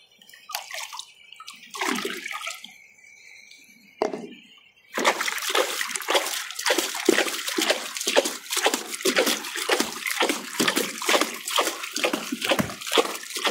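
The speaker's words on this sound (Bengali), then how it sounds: "এইভাবে করে পানি দিই প্রতিদিন," Water poured over mustard and pumpkin plants, starting with a few scattered splashes, then becoming a steady rhythmic patter and slosh as the water falls on the leaves and soil, close and continuous.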